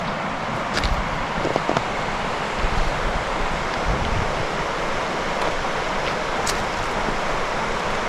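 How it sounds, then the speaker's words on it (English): A river flows near a solo campsite on an island at dusk, giving a steady, broad rushing wash of water that stays close and fairly loud, with a few faint clicks and knocks and no talking. "The river's right over here."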